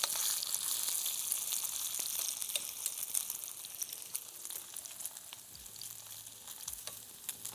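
Food sizzling and browning in a pan on a solo campout, a steady close crackle with scattered pops and a light scrape of stirring now and then.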